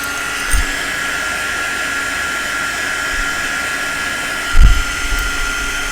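A hot heat embossing tool blows a steady, loud airy whir close by while heating card stock, with a couple of brief low knocks along the way and no talking.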